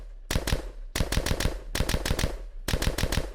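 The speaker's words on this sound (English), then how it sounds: "some weapon firing effects" Loud rapid bursts of game gunfire, fired in four automatic strings separated by brief pauses, punchy and close with no voices.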